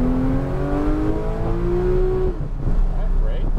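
Engine of a Porsche GT3 race car accelerating on a track, a loud, steady rising drone that builds for about two seconds before the tone shifts, with a voice talking over it.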